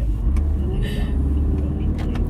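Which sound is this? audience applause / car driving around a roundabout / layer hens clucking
car driving around a roundabout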